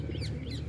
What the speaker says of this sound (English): we got a pigeon attack